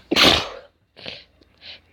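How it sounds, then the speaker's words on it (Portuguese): One loud, explosive sneeze bursts out close up, followed by two softer breathy sounds after a short pause. "eu dei um espirro gigante"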